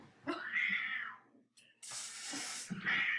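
A cat meows in a long rising-and-falling wail, breaks off, then lets out a sharp, loud hiss and meows again, playing back from a funny cat video with no talking over it.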